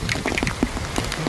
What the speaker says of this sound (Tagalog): Hirap na yung ulan. Taas na.